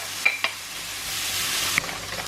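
Onions and peppers frying in a pan, a steady close sizzle with a few brief clinks of a utensil stirring against the pan.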